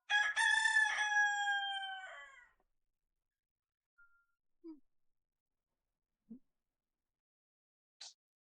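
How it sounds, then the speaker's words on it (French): A fighting rooster gives one loud, close cock-a-doodle-doo lasting about two seconds, followed by a few faint, scattered clucks and small noises separated by silence. "Que faire de ce coq de combat?"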